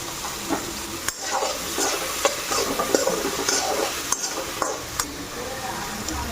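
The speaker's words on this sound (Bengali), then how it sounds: "আর এদিকে দেখো মটরশুঁটিও টকবক করতেছে। এটা ভালো করে ফ্রাই করে নেই।" Green peas frying and bubbling in a pan with salt and turmeric, a steady close sizzle broken by a few sharp stirring clicks of a utensil against the pan.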